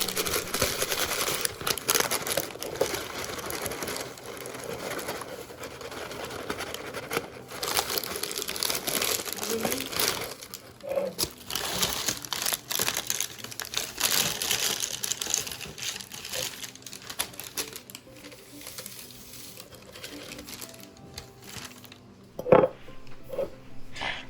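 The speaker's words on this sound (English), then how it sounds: "Here I am putting the herbs into the jar, using the parchment paper as my way of getting them in there." Parchment paper crinkles and rustles in close, irregular bursts while dried herbs are tipped into a jar on a table, with soft taps and small knocks of glass among the crackling.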